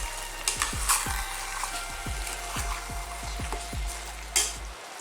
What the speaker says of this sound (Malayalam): ഇതെല്ലാം കൂടി നന്നായിട്ട് ഒന്ന് ഇളക്കിയെടുക്കണം.